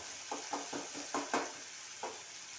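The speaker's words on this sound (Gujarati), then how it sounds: "અત્યારે બધા તેલમાં શેકી ગયા છે બરાબર" Food roasting in hot oil in a pan, with a soft steady sizzle under a series of quick stirring scrapes in an uneven rhythm, close and fairly quiet.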